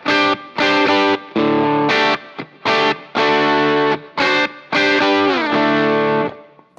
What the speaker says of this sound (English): great overdrive sound. I love this pedal.